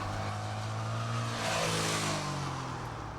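A 2001 Sachs Roadster 800 motorcycle with an 805cc Suzuki engine rumbles along close by, its steady engine note rising slightly as it pulls, with wind noise and no voices.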